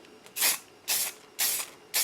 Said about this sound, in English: and then you spray it, and again you spray things 20-30